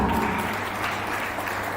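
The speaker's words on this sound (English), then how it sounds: "Another big round of applause for her." Audience applause for a speaker at an emergency-centre meeting on transboundary animal diseases, a continuous even wash of many hands clapping at moderate volume, close and steady for the short stretch.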